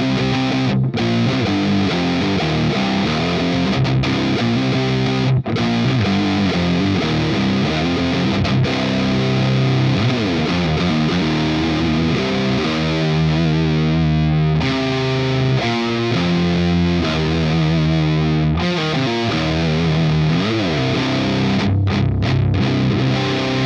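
Electric guitar played through an ML Sound Lab Amped Dual plugin modelling a Mesa Boogie Dual Rectifier amp, a thick high-gain distorted tone with chugging riffs and sustained chords running continuously at full level.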